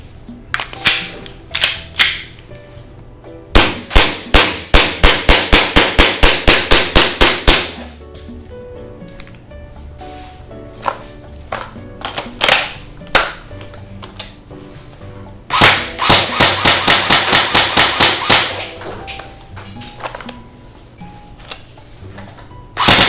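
John Wick edition airsoft guns fire in rapid bursts of sharp, snappy cracks, with a few single shots between long full-auto strings, loud and close outdoors.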